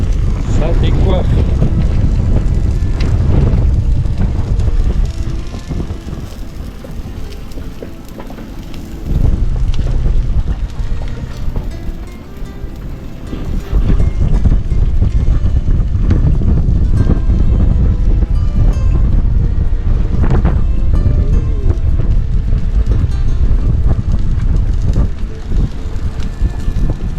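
Strong wind buffeting a sailboat at sea, a loud continuous roar with gusty rumble on the microphone, easing briefly in the middle, while someone speaks French over it.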